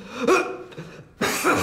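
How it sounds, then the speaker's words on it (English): A man coughs as a signal, short rough throat bursts close up: one cough, a weaker second, then another after a brief pause. "One cough mean you go, two cough mean you take the lead."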